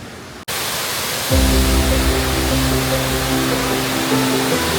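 A waterfall on a hiking trail in Sri Lanka gives a loud, unbroken broadband roar, and a steady tonal motor-like hum joins in partway through.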